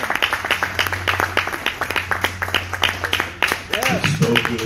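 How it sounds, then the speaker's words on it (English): Many hands clap in a rapid, steady rhythm at a men's church conference, loud and close, with voices and a low sustained tone underneath; singing begins near the end. "Give the Lord a hand clap this morning."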